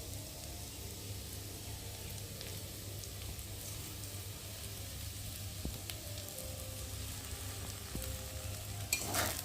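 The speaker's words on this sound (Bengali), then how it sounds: "দিয়ে একটু ভালো করে নেড়ে চেড়ে নেব।" Chowmein vegetables of potato, capsicum and carrot frying with kitchen sauce in a pan, with a continuous sizzle, occasional spatula scrapes and a louder clatter near the end.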